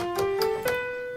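A short run of plucked bass guitar notes rising step by step through the F Lydian scale, clean and clear, each note ringing into the next.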